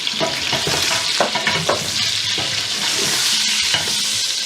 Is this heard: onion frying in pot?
yes